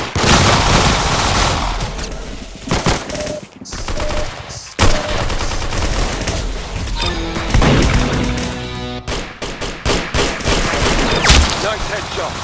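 Rapid bursts of gunfire from the Roblox shooter game Arsenal, loud and close, with clustered volleys and short pauses over about twelve seconds amid in-game effects.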